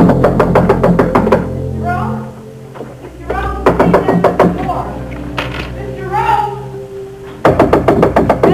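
Sharp knocks rap on a hotel room door in a drama scene, loud, close repeated bursts at the start and again at the end, with lower thumps and a short voice in between.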